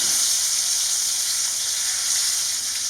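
Bacon sizzles in a frying pan with a steady, bright hiss of spitting fat. The crackle holds at an even level close by for a few seconds, with no voices.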